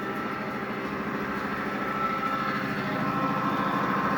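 A model coal train rolls across a swing gate on a basement layout, giving a steady, continuous mechanical rumble with faint rhythmic clicking that stays even and moderately loud throughout, with no voices.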